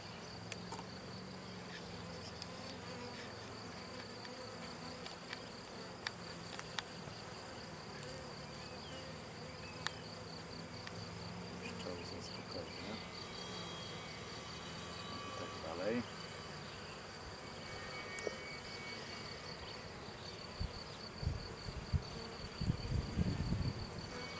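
Honey bees buzz in a continuous drone around a hive split with many bees, with occasional louder passes close by and faint rustling and handling noises.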